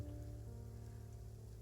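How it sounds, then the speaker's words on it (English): Rain falling steadily during an outdoor scene in a Curse of Strahd tabletop game session, a soft continuous patter over a low background hum, with no talking. "hopefully this rain does not get any worse."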